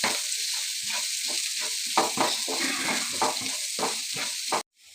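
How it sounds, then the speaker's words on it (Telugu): Garlic fries in oil with curry leaves, a close, bright sizzle broken by rhythmic spatula stirs and scrapes against the pan before it cuts off abruptly. "తెల్లగడ్డలు బాగా వేగాలి. ఆయిల్లో బాగా వేగాలి."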